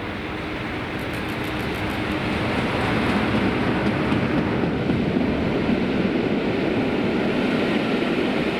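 A train on a Scottish line making its return run rumbles steadily past, a continuous broad roar that swells slightly and holds, with a faint high squeal early on.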